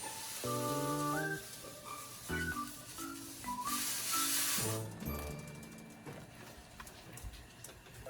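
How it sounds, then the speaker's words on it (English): Dry couscous poured into a pot of boiling seasoned water on a stove, a steady granular rush and hiss lasting several seconds over a background of music. "Now we're pouring in the couscous."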